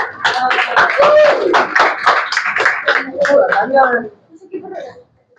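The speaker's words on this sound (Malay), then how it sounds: "Tepuk tangan" Children in a classroom clap in a quick, ragged burst of close, sharp claps that thins out and stops after a few seconds, with young voices chattering through it.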